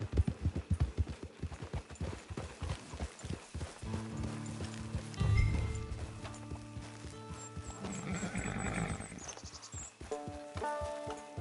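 Rapid hoofbeats clip-clop at a gallop in a PS4 video game, then slow as a horse whinnies and snorts nearby, with game music swelling underneath.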